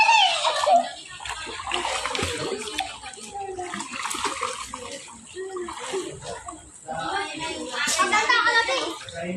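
Splashing water from Peanut swimming in a resort pool, continuous light sloshing with voices and children chattering throughout.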